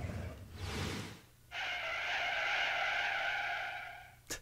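Clown racers speed along in Pac-Man World Re-Pac, with a sustained high tire squeal and skid running for about three seconds after a short whooshing rush, ending in a sharp click.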